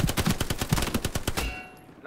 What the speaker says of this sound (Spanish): Recibo disparos desde la calle.